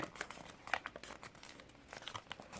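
Coloured paper being folded into an origami rabbit basket makes close, continuous crinkling with crisp creasing snaps and rustles throughout.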